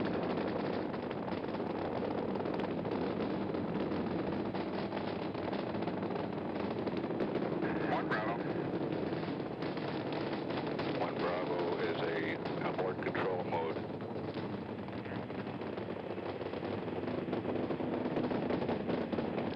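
A continuous, low crackling roar of the Apollo 11 Saturn V rocket during liftoff rumbles steadily, heard from a distance through a broadcast feed with voices talking over it throughout.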